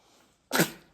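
A single sharp sneeze from a woman in a hospital room after giving birth bursts out at close range, loud and brief, then fades away in a short tail.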